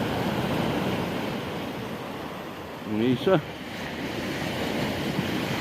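Storm-driven sea surf breaking on a stony shore, a steady wind-blown roar throughout, with a brief spoken word partway through.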